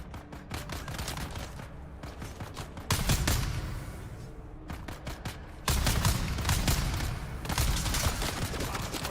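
Rapid automatic gunfire in the video game Dune: Awakening, loud dense bursts of shots that start and stop in long volleys with brief pauses between them.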